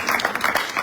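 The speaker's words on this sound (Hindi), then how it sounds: "जोरदार तालियां चाहिए" Audience at an indoor meeting bursts into hearty applause, a dense, continuous patter of many hands clapping close by.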